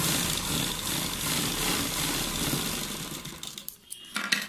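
A sewing machine runs steadily, stitching the folded edge of a button-cuff sleeve. The motor whirs close and continuously, then stops near the end, leaving a few light handling clicks.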